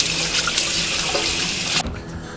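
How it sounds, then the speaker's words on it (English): A kitchen tap runs steadily and loudly as hands are washed under it, then the flow cuts off abruptly near the end, leaving a quieter room. "Let me just wash my hands."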